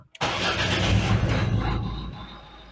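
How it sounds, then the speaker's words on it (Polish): A Ford C-Max engine starts after a fuel filter change, catching at once, then settles into an idle whose revs rise and dip unevenly; a strong start surge fades into a steady, wavering hum. "Trochę falują obroty."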